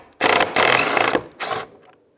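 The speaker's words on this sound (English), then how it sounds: "remove these two 10mm bolts, which will separate our regulator from the inside of this panel" A ratchet whirs in three quick bursts of close, loud clicking as it removes 10mm nuts from the window regulator inside the door panel of a 2007-2015 Mazda CX-9.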